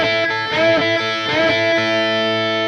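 Electric guitar playing a swung shuffle lick, a short bright phrase of bent, sliding notes over a ringing sustained tone, clear and solo with no talking.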